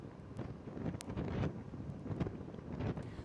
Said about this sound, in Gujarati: 70 થી 80 કિલોમીટર પ્રતિ કલાકની ઝડપે પવન સાથે વરસાદનું આગમન થયું છે